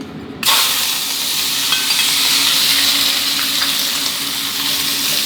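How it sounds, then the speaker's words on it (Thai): After a brief quiet moment, squid and shrimp hit a smoking-hot wok and erupt into loud, sustained sizzling and crackling that continues steadily. "ใส่ลงไปแล้วต้องฉาแบบนี้เลยนะครับ"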